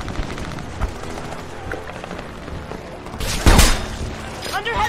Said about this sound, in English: More gunfire. I hear it.